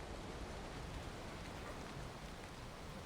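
Steady rain from the video game Valheim hisses as a constant, even wash of noise throughout, soft and unbroken with no voices.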